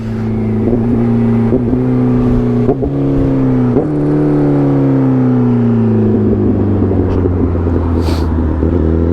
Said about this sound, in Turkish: Shifter sesi ayrı bir güzel.